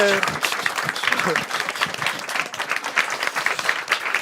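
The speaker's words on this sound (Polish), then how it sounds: "Brawa!" A crowd claps steadily at a cheerful gathering, dense applause sustained throughout with a few voices faintly mixed in at the start.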